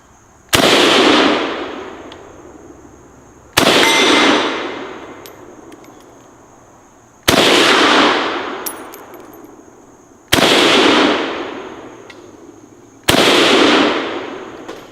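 Five loud SKS rifle shots fired at steel targets, spaced about three seconds apart, each a sharp crack with a long decaying echo and faint ringing of struck steel, no talking.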